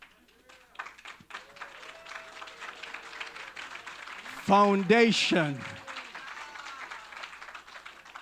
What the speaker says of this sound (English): And as they enter, give them a round of applause